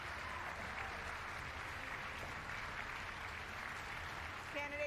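Audience applause at a televised presidential primary debate, a continuous wash of clapping throughout, broad and steady, with a brief chiming tone near the end.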